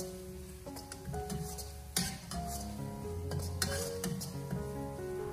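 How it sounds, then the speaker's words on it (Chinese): Minced ginger and garlic are stir-fried in a wok over low heat: soft sizzling with occasional sharp utensil clinks against the pan, heard under steady background music. "再把姜蒜末给它放进锅中，开小火给它翻炒一下，先把姜蒜末给它炒出香味"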